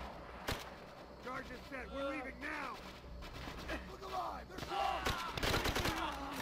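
Gunfire in Call of Duty: World at War on the Wii, with sharp shots and short bursts breaking through a steady battle din while people talk over it throughout.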